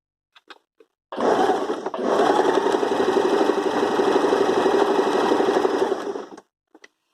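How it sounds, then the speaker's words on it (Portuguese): A sewing machine running steadily for about five seconds as it stitches fabric, close and continuous, with a few faint clicks before and after. "E agora nós vamos começar a costurar."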